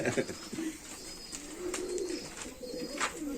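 Hünkari and Çakal pigeons being released in Sakarya, Turkey coo in soft, low, repeated calls close by, with faint rustling and flutter around them.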